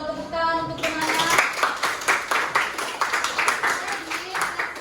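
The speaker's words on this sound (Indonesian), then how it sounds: "Tepuk tangan untuk teman-teman" Classroom students clap for their classmates in a lesson, a burst of rhythmic, fairly close hand clapping that starts after a short spoken phrase and continues for several seconds.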